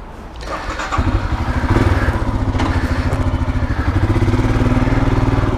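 A motorcycle engine cranks briefly and then catches, settling into a loud, close, steady rhythmic chugging idle that continues to the end, with no voices over it.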